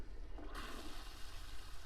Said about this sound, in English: Water's still running.